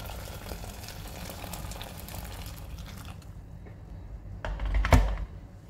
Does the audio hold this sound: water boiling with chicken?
yes